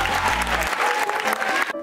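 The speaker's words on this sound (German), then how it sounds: "ich gebe ganz großen Applaus" A school audience at a Lycée Ermesinde carnival event gives loud, dense applause for a prize winner, steady clapping throughout with a brief low hum at the start.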